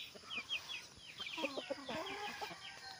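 Native chickens from the Zamboanga Peninsula cluck softly and chatter in quick, scattered bursts, close by but faint, with farmyard ambience around them.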